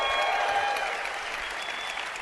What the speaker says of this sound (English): Let's give Howard a round of applause.